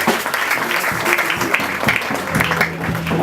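A congregation applauds during a church service on a missionary trip in DR Congo, a continuous crowd clapping with voices mixed in underneath.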